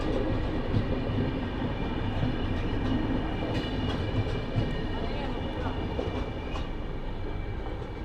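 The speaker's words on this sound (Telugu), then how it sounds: "సో ఈ పక్క నుంచి అయితే ట్రైన్ అయితే వెళ్తుంది" A Gangasagar Express train rumbles past on a single line between Jaynagar and Samastipur, India, with a steady, loud roar and faint rhythmic clatter of wheels, continuous throughout.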